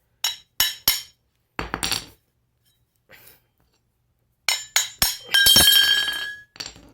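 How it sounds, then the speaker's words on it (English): Metal end bell of a legacy Casablanca ceiling fan knocked loose with a hammer: several sharp, ringing metallic strikes in small bursts with pauses between, ending in a longer clattering ring, close and loud. "Now all you have to do is to hammer off the top end bell."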